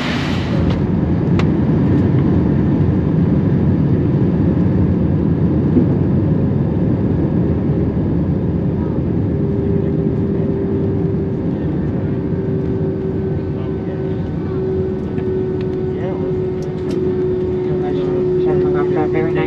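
Steady airliner cabin roar during a landing at Minneapolis, a broad continuous rumble with a faint rising engine whine, loud and unbroken throughout.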